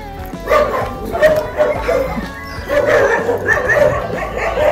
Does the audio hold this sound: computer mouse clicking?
no